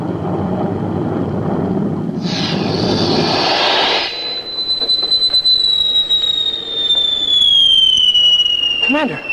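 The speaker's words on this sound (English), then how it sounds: "That's a missile." Missile attack sound effect from a 1950 sci-fi series, a loud rushing blast followed by a long, descending whistling tone that fades slowly, with a voice speaking over it.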